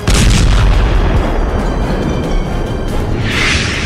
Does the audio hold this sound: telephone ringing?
no